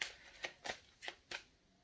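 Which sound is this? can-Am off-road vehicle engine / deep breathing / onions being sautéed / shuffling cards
shuffling cards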